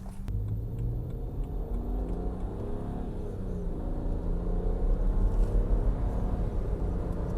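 A BMW 335i twin-turbo engine, suspected of a failing turbo seal, revs up strongly with a steady deep rumble that climbs and holds, loud and close with no voices.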